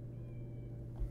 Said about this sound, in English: there's a cat meowing at my window